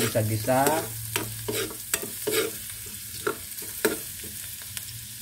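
Garlic sautéing in a pan with a spatula stirring and scraping, giving a steady sizzle broken by periodic sharp scrapes and knocks against the pan.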